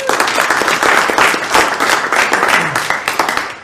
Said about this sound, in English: why don't you give Rob a big round of applause?